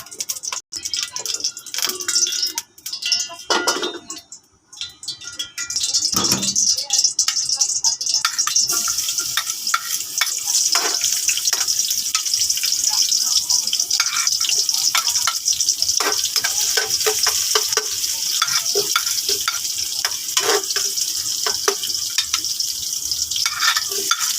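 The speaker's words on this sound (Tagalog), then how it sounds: "Igisa na natin luya, sibuyas, bawang at kamatis." Ginger, onion, garlic and tomato sauté in a pan for gisadong burong isda, a steady loud sizzle running throughout after a few early clatters and stirs, with no talking.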